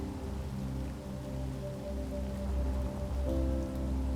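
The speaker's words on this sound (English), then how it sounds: "Now it's raining." Steady rain falls at night in the game Space Engineers, a dense, continuous patter with a low rumbling undertone and no voices.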